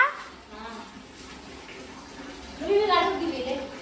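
Stairs being washed with water, splashing and sloshing under children's chatter, growing louder near the end.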